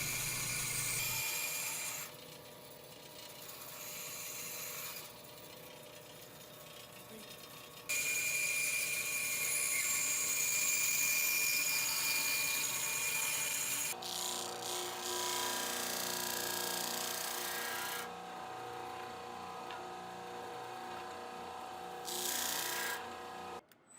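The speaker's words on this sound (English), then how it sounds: "drill a hole in the top of this handle portion" Gritty rasping and grinding of a drill boring a hole into a wooden handle, in long continuous passes that stop and start, close and moderately loud.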